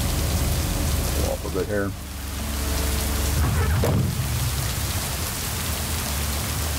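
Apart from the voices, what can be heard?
rain falling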